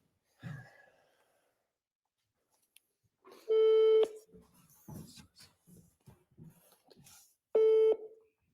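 Phone call being placed from an office: two long electronic ringback tones sound a few seconds apart, close and clear, with brief murmurs, a sigh and small handling noises in between.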